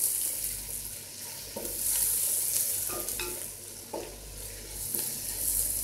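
Onions frying in a pan until browned, a large batch for a fish curry, with a steady close sizzle and occasional scraping stirs throughout, no voices.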